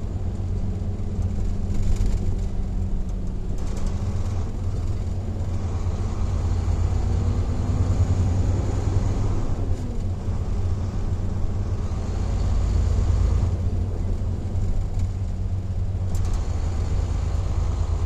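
Road traffic on Eastern Avenue in Las Vegas heard from inside a moving truck: a constant low engine and road rumble, with occasional passing vehicle swells and faint higher hiss from nearby traffic.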